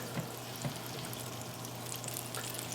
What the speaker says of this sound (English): since that butter is nice and hot, see it bubbling?